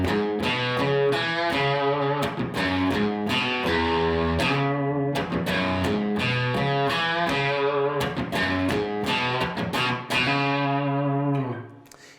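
Distorted electric guitar plays a bluesy single-note riff, repeating the phrase several times with clear picked attacks before ringing out at the end.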